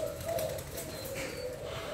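Imported Thai and Malay spotted doves coo in a steady low rumbling call with an airy background, no talk over it.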